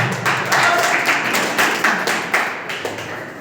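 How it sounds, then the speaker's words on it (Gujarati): An audience at a company meeting in Tharad applauds a speaker's welcome with rapid, dense hand claps that swell and continue steadily with sharp individual claps standing out. "તો જબરદસ્ત તાળી સાથે રૂપાભાઈ સુતાર"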